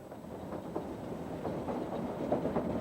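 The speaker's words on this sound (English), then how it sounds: "As the train chugs slowly uphill, the temperature drops" A train on the line to Shimla chugging slowly uphill, heard as a continuous, moderately loud rolling rumble with faint clatter of the carriages and no voices.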